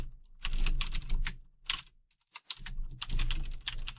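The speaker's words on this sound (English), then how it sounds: "I heard you typing." Rapid typing on a computer keyboard, bursts of clattering keystrokes with a short pause in the middle, close and fairly loud.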